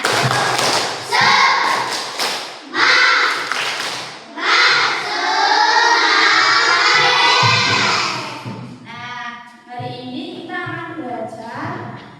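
A classroom of schoolchildren performs a rhythmic clapping chant, loud, close claps in bursts mixed with many young voices chanting and shouting together, pausing briefly between rounds.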